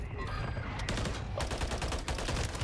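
Rapid SMG gunfire in a video game firefight crackles in dense bursts, loud and close, with overlapping volleys from several directions and faint voices underneath.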